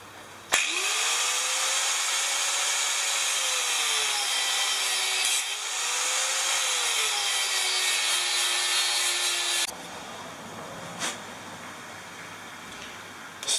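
An angle grinder disc trims a rubber motorcycle tire on a Brixton fender: a loud, steady abrasive whine runs for about nine seconds, its pitch dipping and rising under load, then drops to a quieter, lower hum.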